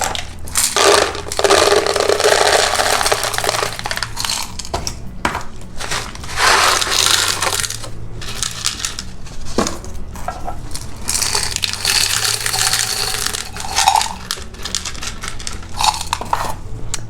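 Pea gravel being poured from a plate into an open glass terrarium, loud clattering bursts of stones hitting glass and each other, coming in several pours separated by brief pauses.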